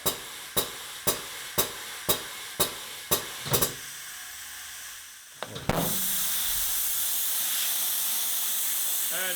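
A split-ring lock-ring wheel's leaking tire valve stem lets out a sudden loud, continuous hiss of escaping air after a series of about eight sharp, evenly spaced metallic taps and a short pause, heard close up.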